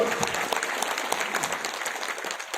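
A crowd claps steadily throughout, dense applause from many hands at a moderate distance, with no voices standing out.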